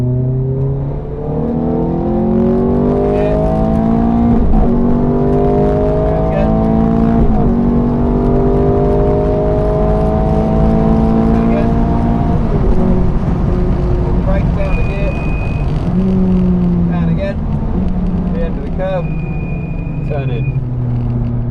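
A Ferrari engine revs hard and repeatedly on the Silverstone circuit, the pitch climbing through gear changes, loud and close with someone talking over it.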